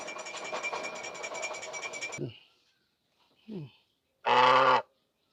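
A loud, harsh duck quack sounds near the end after a brief stretch of background noise and a couple of short squeaky calls.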